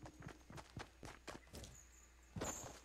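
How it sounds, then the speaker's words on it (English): Footsteps of a player character in Fortnite, a run of rhythmic thuds at moderate loudness, followed by a brighter, louder scuffing burst near the end. "they made the footsteps louder so you can hear people from like a block away"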